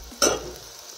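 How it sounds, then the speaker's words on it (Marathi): A single short scrape and sizzle sounds as vegetables frying in a pan are mixed, a brief close burst fading into a quiet hiss. "हे आता मस्त असं मिक्स करून घ्यायचं। मस्त फ्राय व्हायला लागलेला आहे।"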